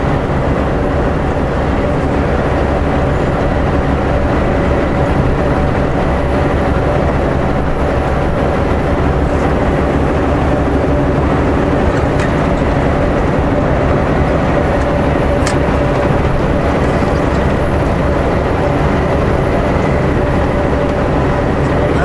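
Loud, continuous rumble and clatter of a long freight train with mid-train engines rolling past close by, steady throughout with occasional metallic squeals.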